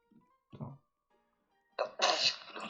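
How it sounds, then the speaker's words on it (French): A single loud sneeze bursts out near the end, after a short nasal intake and a softer breathy sound, close and clear against near silence. "Oula, t'as éternué, frère."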